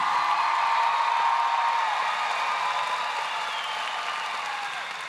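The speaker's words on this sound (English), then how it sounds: "Let's give a louder round of applause for these amazing graduates" A large graduation crowd at Pflugerville High School claps in a steady, dense wash of applause that holds evenly for several seconds, sounding broad and slightly distant, with no clear voices on top.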